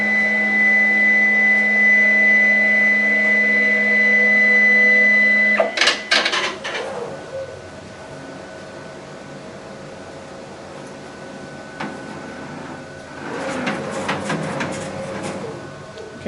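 An Ri2000 printer's platen motor whirs with a steady mechanical hum for about six seconds, then stops with a couple of clunks. Quieter background noise and a brief rustle follow.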